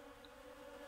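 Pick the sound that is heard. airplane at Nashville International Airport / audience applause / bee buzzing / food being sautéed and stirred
bee buzzing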